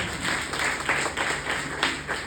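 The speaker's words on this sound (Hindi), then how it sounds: "उनके सम्मान के लिए एक बार जोरदार ताली हो जाए।" Audience applause in a hall, a dense burst of clapping that holds steady for a couple of seconds at moderate loudness, with no voices over it.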